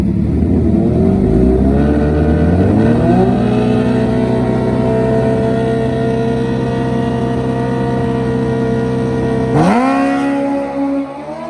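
A Suzuki Gixxer 1000 and a Hayabusa drag racing motorcycles launch down the drag strip, engines revving loud then settling into a long sustained high-pitched wail, with a sharp shift or second surge near the end.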